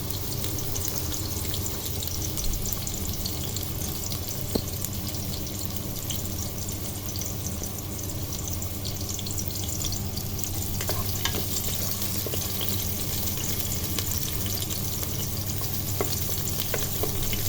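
Onions and other ingredients fry steadily in a pan, a continuous close sizzle with occasional stirring clicks and faint kitchen clatter, with no talking throughout.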